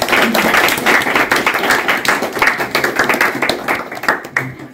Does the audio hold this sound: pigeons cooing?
no